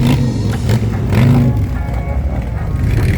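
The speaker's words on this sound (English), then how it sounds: "Got the Brox exhaust on here." A motorcycle with an aftermarket Brox exhaust rumbles loudly up close, blipping its revs in a few rising surges over a deep, throaty exhaust note.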